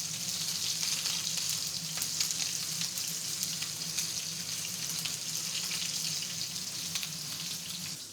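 Steak searing in a pan over lowered heat, a dense close crackling sizzle with scattered pops, steady and continuous throughout.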